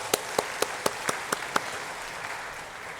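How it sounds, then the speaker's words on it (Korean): Encouraging applause for a church worship team: a few distinct, sharp claps ring out in a slow, even rhythm, then fade into a softer hum of room noise, with no talking. "우리 찬양으로 섬겨주신 우리 카리스 찬양단을 위해서 우리 격려의 박수 드리겠습니다"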